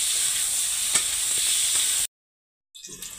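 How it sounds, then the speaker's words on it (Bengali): Onions and potatoes fry together with salt in a pan, giving a steady loud sizzle and hiss, then a brief silence before frying noise returns more faintly. "শুধু নুনটা দিয়ে এটাকে ভেজে নেব ভালো করে, একটু লাল লাল লালচা করে ভেজে নেব। পেঁয়াজ আর আলু দুটো একসাথে ভাজা হয়ে যাবে।"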